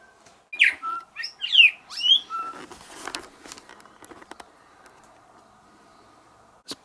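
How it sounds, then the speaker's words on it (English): Birds out in hill country, including quail and bowerbirds, give a quick run of sharp chirps and whistled squawks over the first two seconds, followed by faint rustling and scattered soft calls. "There's bloody birds everywhere up here. We keep busting coveys of quail."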